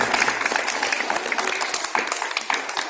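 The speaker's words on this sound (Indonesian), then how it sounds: "Tepuk tangan yang meriah." Applause at a school flag ceremony marking Indonesian Independence Day, as a crowd of students and teachers claps steadily for the teachers; dense, even clapping carries on throughout with no voices.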